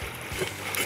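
River water gushing up like a fountain through a hole cut in thick ice during ice-block harvesting in a Siberian-cold Harbin winter, heard as a continuous close splashing and gurgling rush.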